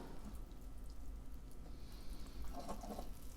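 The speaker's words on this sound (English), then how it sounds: "Give it a good watering." Water pours from a Haws watering can onto a potted lemon tree, a soft steady splashing and trickling that continues at a low level with faint brighter spatters near the end.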